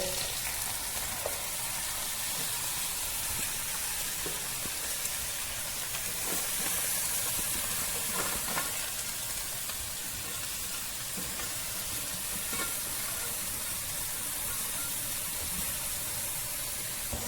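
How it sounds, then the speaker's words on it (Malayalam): Washed, drained rice roasts in ghee for Kerala-style ghee rice, giving a soft, continuous hissing sizzle at moderate level throughout, with a few faint scrapes. "അതിട്ടിട്ട് നല്ലോണം ഒന്ന് വറക്കണം"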